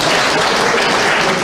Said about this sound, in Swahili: Askofu, tupigie makofi.